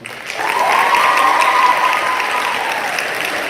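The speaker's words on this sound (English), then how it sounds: "So I applaud you for that." Audience applause at an award ceremony swells in quickly and holds as a loud, dense wash of clapping, with a faint voice briefly audible beneath it.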